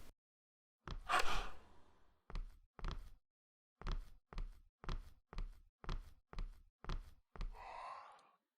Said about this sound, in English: When the creature begins to chase the player, a gasping sound is played as a warning for the player